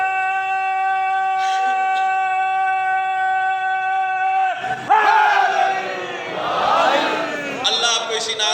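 At a Muharram majlis, a held tone gives way to a large crowd loudly chanting a religious slogan in unison, the voices swelling in waves and then surging again near the end.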